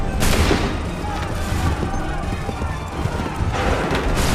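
Volley fire from soldiers' muskets in Assassin's Creed 3 Remastered, with loud crackling bursts near the start, middle and end over a constant battlefield din, and voices mixed in.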